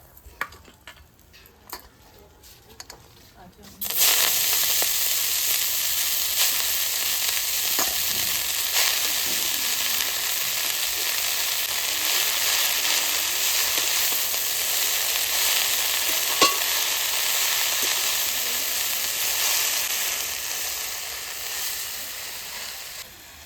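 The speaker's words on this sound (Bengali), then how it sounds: "লাল লাল করে মচ মচ করে ভাজে নিচ্ছি" Food frying until crisp and reddish in a pan with oil, in a home kitchen alongside hilsa fish cooking. A loud, continuous crackling sizzle begins abruptly after a few quiet seconds and holds steady throughout.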